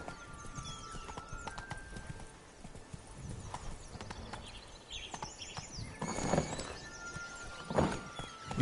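Roach, a horse in The Witcher 3: Blood and Wine, galloping with a steady clip-clop of hooves, plus a couple of whinnies and snorts near the end, heard alone without talk.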